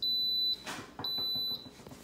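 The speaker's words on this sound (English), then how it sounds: "They're just beeping because they're done." A kitchen appliance beeps to signal that cooking beans are done: two long, loud, steady electronic tones separated by a short gap, with soft household clatter between them.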